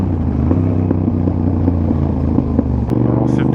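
Yamaha R7 motorcycle with an aftermarket exhaust line, a loud steady engine drone with rhythmic pulsing while riding through villages, and a voice talking over it.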